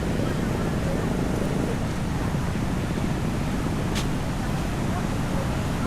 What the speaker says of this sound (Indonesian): Aliran sungai juga masih kencang banget loh itu.